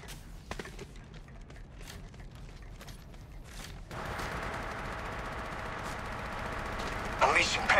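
Gunfire in the mobile version of the Apex Legends shooter: quiet, scattered shot bursts and mechanical clatter, then a denser, louder run of fire toward the end.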